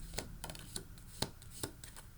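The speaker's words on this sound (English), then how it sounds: "I'm going to draw some from each pile. In fact, I think I'm going to shuffle 3 times here for each too." A deck of tarot cards shuffled by hand at a pick-a-card reading, producing soft riffling and sharp slapping cracks in an irregular rhythm, close and fairly quiet.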